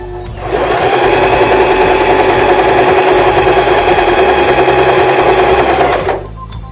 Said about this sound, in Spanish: Ahora vamos a hacer una costura en zigzag disminuyendo el ancho de puntada